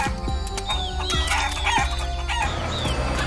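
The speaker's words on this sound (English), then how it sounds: "There's Ben feeding the chickens!" Cartoon chickens on a farm cluck and squawk in quick, overlapping calls, close and clear against a steady background.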